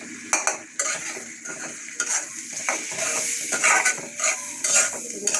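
Shrimp fry with chili and salt in a pan, crackling and hissing loudly close by while a utensil scrapes and taps against the metal in irregular bursts; no voices.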